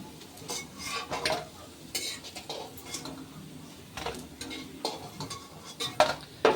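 Lentil fritters frying in oil in a wok, a soft steady sizzle broken by repeated scraping and clinking of a utensil against the pan.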